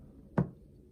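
A 6-iron strikes a Fiberbuilt Flight Deck hitting mat on an intentional fat shot, a single short, dull thud heard close up against quiet background.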